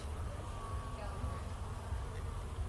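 Honey bees buzz around a hive in a residential neighborhood, a close, continuous drone with a faint hum under low background noise.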